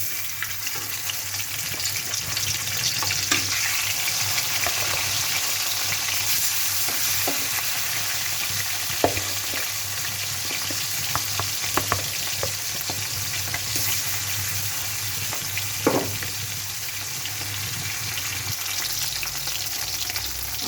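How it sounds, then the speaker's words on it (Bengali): Fish frying in a pan of oil while cooking a pumpkin curry, giving a steady dense sizzle throughout with occasional small pops and clinks of stirring, close and moderately loud, no talking. "এখন মাছ ভেজে নিব।"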